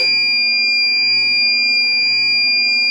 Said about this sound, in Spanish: un chispazo mucho mayor, parte del cable quemado y una alarma